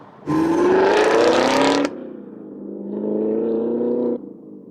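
A Chevrolet Camaro ZL1 1LE with an AWE Tuning exhaust revs hard twice, a loud, rising bark that drops to idle, followed by a second, softer sustained rev that cuts off.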